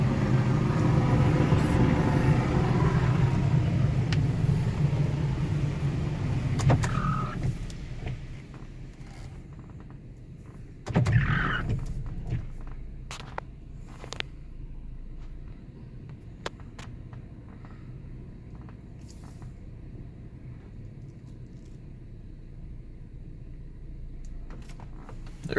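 A Belanger Saber touchless car wash in El Paso runs, starting with a loud broad rush of spraying water and machinery that fades to a quieter hum, broken by a few sharp clunks and hisses.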